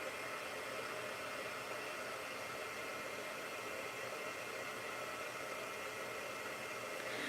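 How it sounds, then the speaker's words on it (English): A heat gun runs for heat embossing a handmade mixed-media card, a constant faint airy whoosh with an even motor hum that holds steady the whole time with no voices. "Heat embossing like what I'm doing right now."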